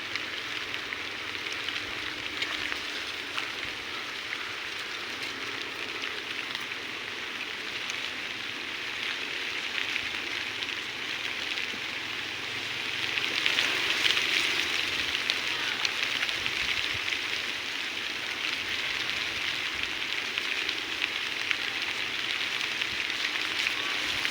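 Steady rain pattering on surfaces all around while sheltering under an ipil-ipil tree on a tilapia fishing spot, a dense continuous hiss that swells slightly midway, with no voices.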